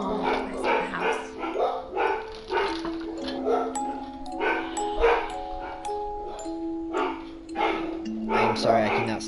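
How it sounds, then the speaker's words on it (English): Repeated dog barks ring out in bursts from the video game What Remains of Edith Finch, layered under steady talking and soft background music, loud and insistent throughout. "I cannot stop the barking"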